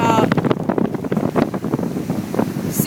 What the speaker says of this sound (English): Really big waves. It's coming in really close.